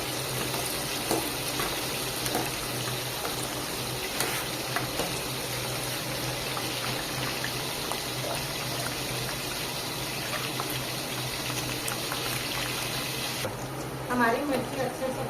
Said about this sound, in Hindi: हमारी मिर्ची अच्छे से फ्राई हो गई है।